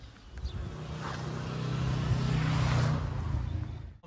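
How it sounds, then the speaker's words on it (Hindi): A company truck drives past outside a warehouse, its engine rumble building steadily from faint to loud and peaking near the end as it passes close, then cutting off. "अपनी कंपनी की गाड़ी जा रही है"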